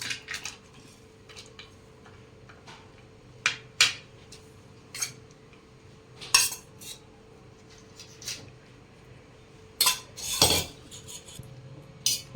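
Farali bhel being served onto a plate, with scattered clinks and scrapes of a metal spoon against dishes coming in irregular bursts over quiet kitchen background.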